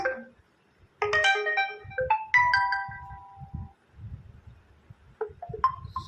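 The Oppo K10 5G notification ringtone "Splash" plays as a short run of bright, bubbly chiming tones in quick bursts, clear and close, with brief gaps and faint handling noise below.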